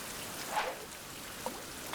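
Rain falling in the survival game Survival: Fountain of Youth, a soft, steady hiss of drops with a few faint distinct patters, quiet and alone.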